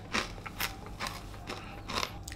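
Crispy deep-fried dried fish is bitten and chewed up close, giving a series of about five sharp, crackly crunches at irregular intervals against a quiet background.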